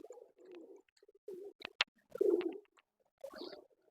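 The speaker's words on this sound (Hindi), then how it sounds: "ये कबूतरी" A female Teddy king pigeon cooing nearby in soft, low, separate bursts with short pauses, mixed with a few sharp clicks and rustles in a quiet setting.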